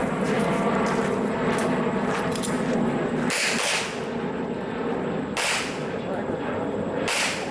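Pistol shots ring out at an IDPA shooting match, a few loud sharp cracks spaced seconds apart over a constant outdoor roar, each with a brief echoing tail.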